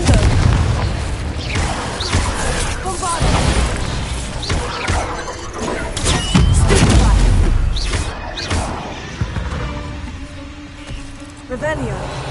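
A fire-blasting spell erupts in the Hogwarts Legacy video game, a loud booming burst with crackling debris and rumbling aftershocks, layered with game music and effects, while a player voice speaks over the action.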